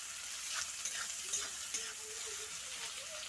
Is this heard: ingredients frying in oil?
yes